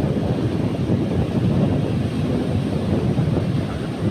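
Strong wind at sea as fishermen head for shore, a loud, steady low roar of gusting wind buffeting the microphone with no talk.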